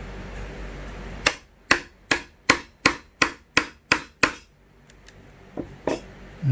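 A chisel is tapped into wood to chop a bridle joint, nine sharp evenly spaced mallet strikes close by, then a few lighter taps and scrapes.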